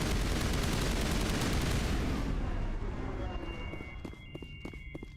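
Gunfire in the Mass Effect game, shots blowing up an object: a dense, loud burst of rapid fire for the first few seconds, then a handful of sharper separate cracks and a thin high electronic tone as it trails off.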